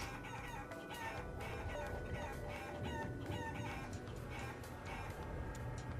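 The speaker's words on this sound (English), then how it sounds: "almost every time you press the button, the chicken clucks" Game chickens in Guacamelee cluck and squawk rapidly and continuously over steady game music, loud and busy, with no speech.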